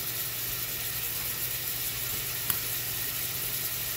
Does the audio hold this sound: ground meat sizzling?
yes